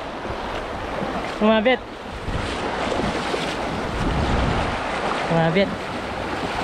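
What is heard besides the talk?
strong river current flowing at night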